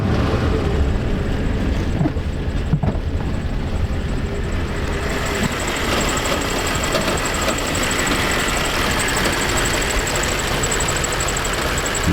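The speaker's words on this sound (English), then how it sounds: "Just idling away." A 1934 Ford Deluxe Tudor sedan idles steadily at around 500 to 600 RPM, a continuous close, loud, even engine rumble with a faint mechanical tick and no talking.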